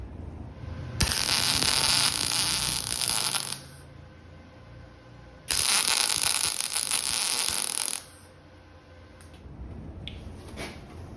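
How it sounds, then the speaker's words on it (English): Welding a steel bale handle onto a toolbox, two loud crackling, hissing bursts of a few seconds each, separated by a quieter pause and a faint hum. "I'm just going to weld it on."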